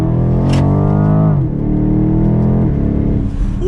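A 2022 BMW X6 M50i in Sport Plus mode accelerates hard, its engine climbing in pitch then dropping sharply at each paddle upshift, two quick shifts heard close and loud.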